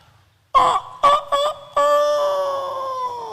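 A voice imitates a chicken, giving a few short clucking bursts and then a long drawn-out crowing call, close and loud.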